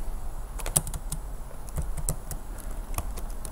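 Typing on a computer keyboard, irregular close key clicks with short pauses between bursts and no voices.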